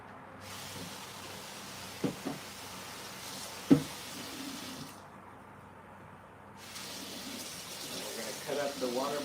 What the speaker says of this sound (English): I'm going to rinse my cutting board off.